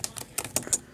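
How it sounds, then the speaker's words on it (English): Quick keyboard typing, four or five sharp clicking keystrokes in a short uneven burst, close and fairly quiet. "I'm in a typing contest."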